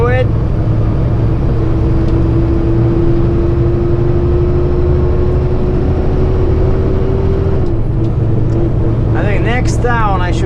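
Kenworth heavy truck with a diesel engine on 30 psi turbo boost, a heavy steady rumbling drone heard from the cab with a faint rising whine, and a voice speaking near the end.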